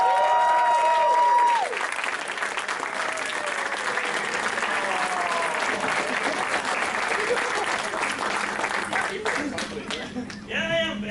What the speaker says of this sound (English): everyone, please give a round of applause for Alkali